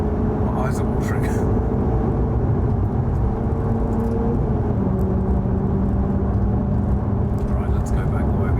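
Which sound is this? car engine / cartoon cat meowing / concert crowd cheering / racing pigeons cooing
car engine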